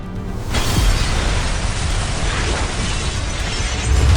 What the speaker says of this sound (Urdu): پھر ایک ایسا زوردار دھماکہ جس نے دنیا کو ہلا کر